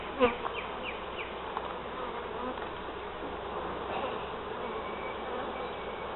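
Honeybees buzz around an open hive during an inspection, a dense continuous hum of many insects close by, with a few louder individual bees passing near.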